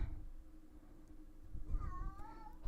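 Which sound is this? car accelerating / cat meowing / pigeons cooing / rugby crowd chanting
cat meowing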